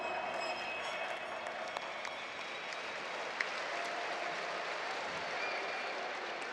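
A large crowd at an ESL One Belo Horizonte CS:GO semifinal, mousesports vs. SK on Train, applauds steadily in a dense, sustained wash of clapping that fills the arena without a break.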